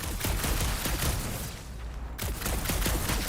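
Rapid shooting in the video game Guardians of the Galaxy, with dense bursts of sharp shots firing continuously, a brief lull in the middle, then heavy fire resuming.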